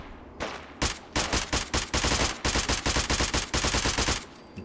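Rapid bursts of close, loud gunfire from an Armalite AR-180 police carbine in Fallout 4, several quick volleys of sharp, evenly spaced shots with short pauses between bursts, and no talking.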